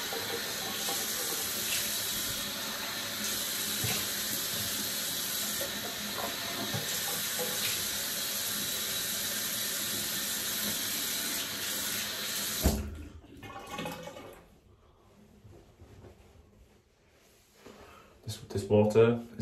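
A bathroom tap runs steadily and loudly for about thirteen seconds while the face is rinsed after shaving, then shuts off, leaving quieter splashing and handling noises.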